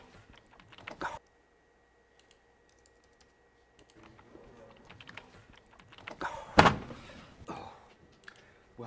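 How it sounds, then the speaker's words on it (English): Computer keyboard typing in a film scene comes in short bursts of soft clicks, quiet and close, separated by near silence, with a louder thunk partway through. "if he's just typing for a bit."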